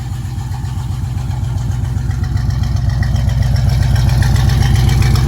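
A 1968 Pontiac Firebird convertible engine idling, heard from behind the car: a loud, deep, steady rumble with a lumpy rapid pulse that grows slightly louder as the listener moves closer.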